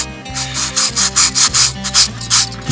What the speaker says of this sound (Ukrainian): не сильно прижимаючи, отакими такими рухами ми чистимо поверхню.